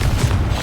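A Confringo fire spell blasts in Hogwarts Legacy: a short, loud, booming burst with a heavy low rumble, filling the whole moment.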